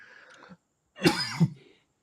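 A single harsh, wet cough close by, preceded by a faint murmur, then quiet.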